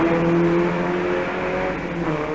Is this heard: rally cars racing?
yes